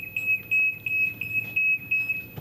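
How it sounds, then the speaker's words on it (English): Library exit security alarm going off as someone walks through the exit gates, a loud, steady high-pitched electronic beeping in rapid regular pulses, with no talk. "you walk on through the exit over here, you'll notice that it sets off our alarm"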